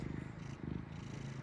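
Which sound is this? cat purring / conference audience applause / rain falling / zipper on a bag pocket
cat purring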